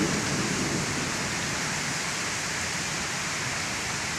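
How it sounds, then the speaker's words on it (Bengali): Rain falling after a long hot spell, a dense, even hiss of steady rainfall that holds constant throughout with no voices. "অনেক গরমের পরে এখন বৃষ্টি পড়তেছে"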